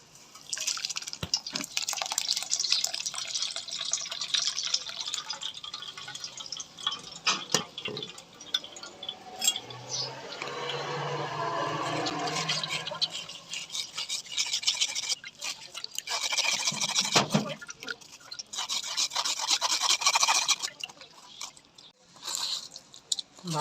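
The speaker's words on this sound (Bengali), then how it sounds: "এবার ছেঁকে নেব।" Grape juice being strained through a sieve gives a continuous wet dripping and trickling with soft squishing of the pulp, close and steady for a long stretch, with no talking.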